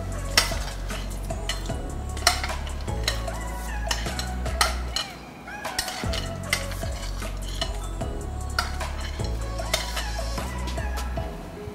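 Metal spoon stirring fried garnish into bamboo rice payasam for an Onam sadhya, with steady scraping and clinking against the pot and a faint sizzle, close and continuous with no talk.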